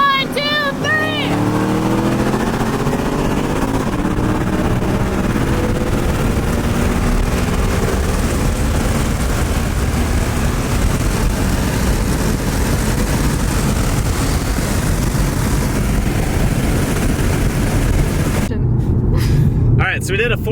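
A 2018 Mustang GT and a Camaro ZL1 race from a 45 mph roll. Their engines roar loudly and continuously from start to finish with a rising, straining tone near the start.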